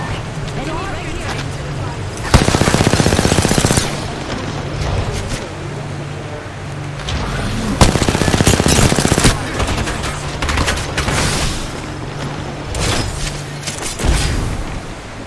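Enemies fire on the player in a battle royale shooter, heard as two loud, rapid automatic bursts over steady game noise, with scattered shots and a voice talking throughout.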